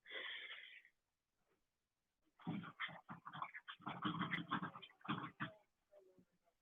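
Several dogs bark and yelp in a garden, one brief bark opening, then after a pause a dense, loud run of overlapping barks and growly yaps that trails off into a few softer whimpers.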